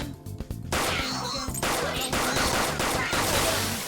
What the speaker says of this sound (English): You have the gun with you, right? Point it at a shadow and fire.